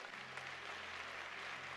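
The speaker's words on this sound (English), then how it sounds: "Let's give the Lord a round of applause." A church congregation applauds during a sermon, a soft, distant, even patter of many hands that holds steady for a couple of seconds with no voices.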